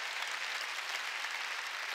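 A church congregation at a year-end service fills the room with steady, even applause, many hands clapping together at a soft, distant level, with no speech.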